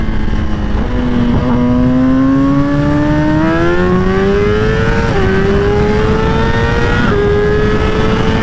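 A 1000cc sport motorcycle pulls hard in first gear, its engine note climbing steadily in a loud, close rising whine, with brief dips at about 1, 5 and 7 seconds before the pitch climbs again.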